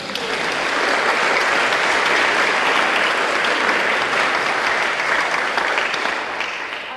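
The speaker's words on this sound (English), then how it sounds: "We can clap, I think, for both amazing ladies." An audience at a tribunal event applauds two speakers, a sustained, full round of clapping that swells early and holds steady before easing slightly at the end.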